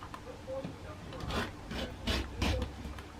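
A rotary cutter slicing quilt fabric along a ruler, making steady close rasping strokes that swell in a few passes, with no voices.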